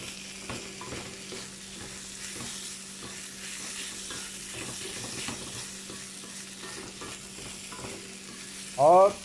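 Steady, gentle sizzling of long beans being stir-fried in a wok, with soft scraping stirs throughout and a brief louder clatter at the very end.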